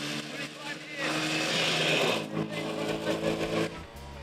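A DMW motorcycle powered by a Villiers two-stroke engine rides through a park in Algonquin, its steady buzzing engine note swelling loud and close, with voices talking over it.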